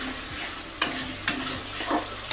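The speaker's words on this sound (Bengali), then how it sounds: "পেঁয়াজটা কিন্তু ভাজা হয়ে গেছে একদম।" Onions frying in a pan for chicken biryani, a continuous close sizzle broken by a few sharp scraping strokes as they are stirred. No voices.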